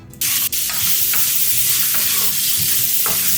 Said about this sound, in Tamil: இதையும் ஒரு தடவை நல்லா கலந்துக்கோங்க.